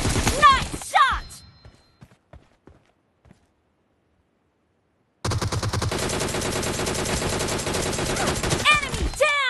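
Video-game gunfire opens with a few sharp shots, drops to near silence for a couple of seconds, then returns as sustained, dense rapid automatic fire with sharp bursts near the end.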